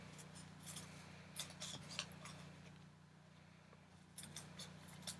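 Scissors snip across a piece of paper during a star weaving craft, a few close, crisp cuts in short bursts with quiet pauses between, and no talk.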